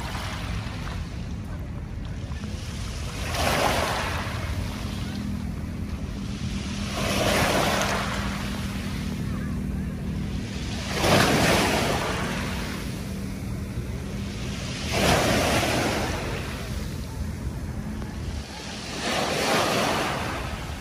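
Waves roll onto the dolomite beach shore of Manila Bay in slow surges about every four seconds, each wash swelling and fading under steady wind noise buffeting the microphone.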